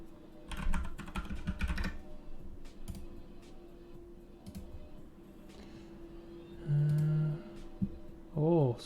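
Computer keyboard typing for notes, bursts of quick soft key clicks close by with pauses between, plus a few brief louder thumps near the end.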